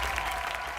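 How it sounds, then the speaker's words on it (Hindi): Audience applause in a TV studio during a Hindi entertainment show, dense steady clapping from a crowd throughout, filling the short moment alone without talk. "जोरदार तालियां"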